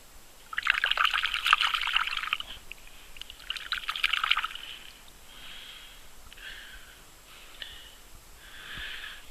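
Water trickles and splashes while a worked flint is washed off: two close bursts of running water, then softer, intermittent dribbles toward the end.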